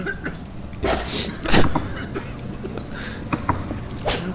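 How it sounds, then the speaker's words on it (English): A cough sounds inside a horror video game, one of several short bursts over a steady noisy background, with people talking around it. "I heard somebody else cough."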